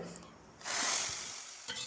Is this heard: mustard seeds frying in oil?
yes